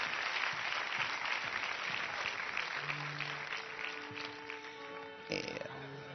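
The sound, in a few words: audience applause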